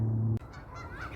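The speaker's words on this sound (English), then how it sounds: "we got more Canadian geese" Canada geese give a loud, close, drawn-out honk at a Calgary bird sanctuary, then fainter calls trail off under outdoor ambience.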